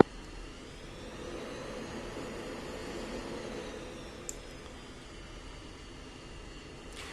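Steady broadband roar of an F-16 jet engine at taxi power in the Falcon BMS flight simulator, a continuous even rumble with a faint high whine, holding level throughout with a couple of tiny clicks.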